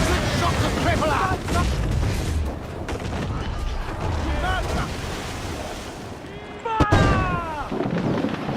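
Naval cannon fire and booming broadsides during a ship battle at sea in Assassin's Creed IV Black Flag, heavy blasts over crashing waves and wind, with shouting voices throughout.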